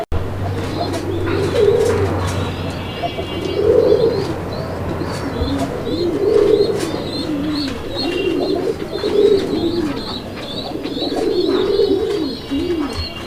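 Gola pigeons at a Bangladeshi pigeon farm coo in repeated soft, throaty rolls, several birds close by with light chirps and faint background noise between calls.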